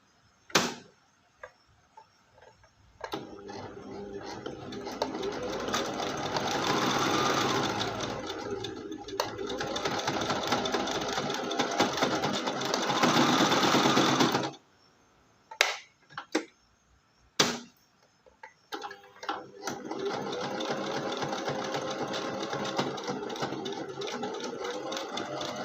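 A sewing machine stitching a cord onto fabric, running in long steady whirring bursts separated by short pauses and clicks, close and clear with no talking.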